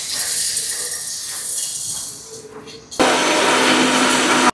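An electric grinder whirs while powdering roasted home-remedy spices, a steady loud buzzing hiss that jumps to a harsher full-speed roar partway through and stops abruptly.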